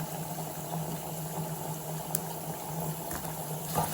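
Cashew nuts fry in hot ghee in a pan for pumpkin payasam, giving a steady, close bubbling sizzle that holds even throughout, with a few faint ticks and no voices.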